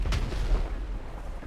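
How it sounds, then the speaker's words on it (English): Pirate ship cannons fire in GTA 5, giving a deep booming burst with a sharp onset and a rumbling low tail, loud and close, with no talking over it. "Stop using your cannons, you bloody idiot!"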